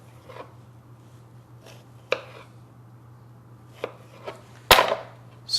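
A sharp knife cuts slices from a seedless organic cucumber on a board, a few sparse close taps with one louder chop near the end over a steady low hum.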